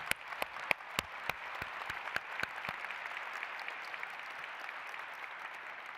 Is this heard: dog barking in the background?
no